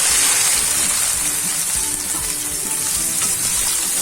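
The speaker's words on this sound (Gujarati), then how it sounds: "એકદમ સરસ સાતળી લેવાના છે ચારથી પાંચ મિનિટ આપણે આ રીતના ખુલ્લા જ સાતળવાના છે" Bitter gourd sautéing in hot oil in an open pan, a loud continuous frying hiss and sizzle with faint stirring scrapes, steady throughout with no voices.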